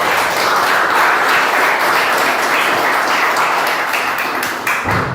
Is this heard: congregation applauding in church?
yes